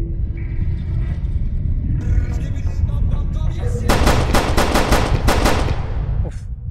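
Rapid bursts of gunfire from a Skibidi Toilet versus Cameraman shooter game, about seven sharp shots in quick succession over a steady low rumble, loud and close, with no talking.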